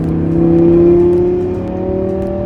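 A tuned Audi R8 engine revs with a steady, rising whir that swells and eases back, heard from inside or close to the car, continuous for a couple of seconds with no voices.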